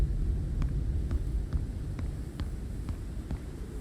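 Twin big turbine engines of an airship in Forever Skies drone in a steady low hum, a constant throbbing rumble with faint periodic ticks above it and no talk.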